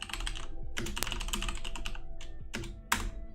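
Rapid typing on a computer keyboard at a streamer's desk: close, clattery keystrokes in uneven bursts with short pauses between runs, heard alone without talk.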